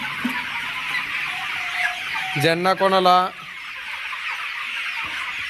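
A dense chorus of improved country chickens clucks steadily in a large flock on a poultry farm, with a person speaking briefly partway through over the birds.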